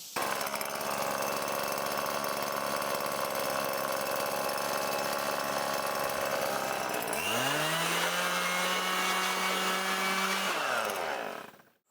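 A blower roars close and loud while cleaning off a walk-behind lawnmower, settles into a steadier pitch partway through, then winds down and cuts off at the end.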